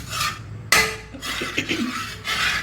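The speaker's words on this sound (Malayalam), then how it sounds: "അതവിടെ കട്ടയില്ലാതെ നമുക്കിങ്ങനെ ഇളക്കി കൊടുക്കാം" Metal spoon scraping and clinking against a bowl while stirring a cornflour cream mixture, in several bursts of rasping strokes with short pauses between them, close and fairly loud.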